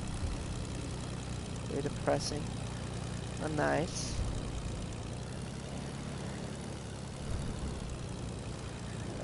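Warplanes fly overhead in a multiplayer shooter video game, a steady engine drone that runs throughout beneath a player's voice.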